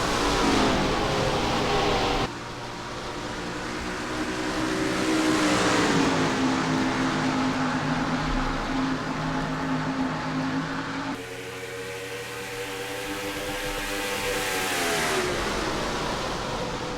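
A pack of stock cars surges away at the race start at World Wide Technology Raceway at Gateway in NASCAR Racing 2003, engines droning loudly and rising in pitch as they accelerate, with no talk.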